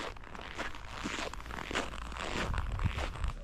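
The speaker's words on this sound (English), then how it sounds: "I love the sound of the snow crunching beneath my feet." Footsteps crunching through snow on a village path in Russia, a steady run of gritty, crackling steps close by with no talk.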